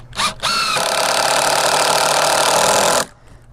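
A power driver briefly revs, then winds screws into a pressure-treated wood planter box in one loud, steady whine that lasts about two and a half seconds before cutting off sharply.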